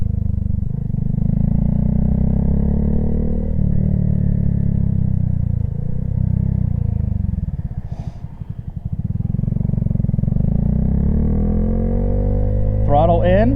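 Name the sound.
motorcycle engine braking in third gear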